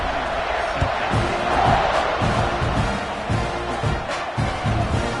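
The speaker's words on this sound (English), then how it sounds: "You think this crowd's going to get loud when their defense comes on the field?" A dense, steady roar of a large college football stadium crowd in the College Football 25 video game, with rising cheers and shouts swelling briefly, continuous throughout.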